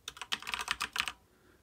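A burst of rapid computer keyboard keystrokes entering a command-line option while flashing factory firmware to an Anet A8 3D printer, close and crisp, ending in quiet.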